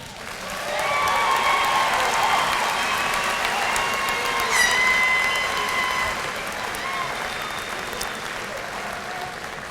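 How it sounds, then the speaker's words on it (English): Sustained applause and cheering from a large crowd honoring graduates and their families at the 2019 Southeastern Oklahoma State University graduation ceremony, steady and dense for the whole span with some whistles and voices mixed in. "Let's give all our graduates and their families one more round of applause"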